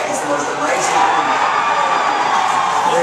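Audience cheering at an EA Sports showing of a Madden game, a dense, loud wash of crowd noise with whoops and shouts running continuously throughout.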